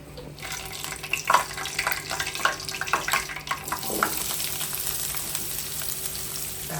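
Bombay duck (bombil) fish frying in a generous amount of oil, giving a steady, close sizzle laced with crackles, pops and a few utensil clinks throughout.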